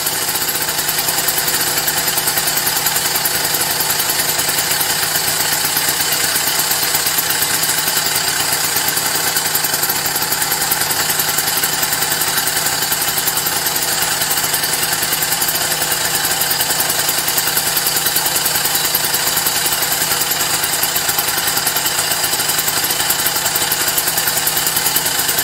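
A Motobecane AV 33 moped engine runs steadily after starting, a loud buzzing two-stroke drone with an even, rapid rhythm that holds constant throughout, close by and alone.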